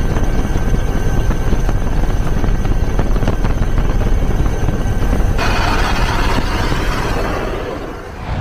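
A helicopter flies overhead with a loud, steady roar and rotor drone that thins out slightly toward the end, with no voices.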